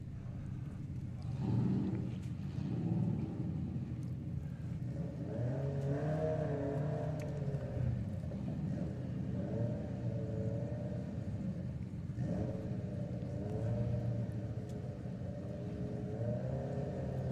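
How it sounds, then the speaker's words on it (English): A Porsche drag car at a drag racing meet revs and launches off the line, its engine roaring steadily with rising and falling pitch as a second car chases alongside, loud and sustained for the whole stretch. "So Ed will be going first with the Porsche. Off it goes, and there goes Phil in pursuit."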